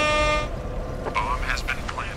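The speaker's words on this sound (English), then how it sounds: "I'm actually just meant to hit air horn." A short air horn sound effect blares loudly for about half a second at the start, then cuts off, leaving faint game sounds and a brief voice-like tone.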